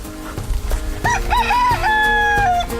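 A rooster among heritage and rare breed chickens such as lavender Orpingtons and blue-laced red Wyandottes crows loudly and close on a free-range ranch, one long rising and wavering call over a steady low background hum.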